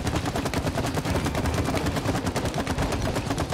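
Rapid gunfire in the co-op video game It Takes Two: a loud, continuous burst of fast, evenly spaced shots filling the whole moment without a break.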